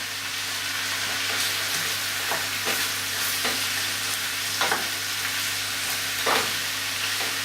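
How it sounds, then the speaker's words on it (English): Minced beef and onions frying together for lasagne, a steady close sizzle over a constant low hum, with repeated scraping stirs against the pan and no talking. "So we're going to be mixing the onions in with the beef."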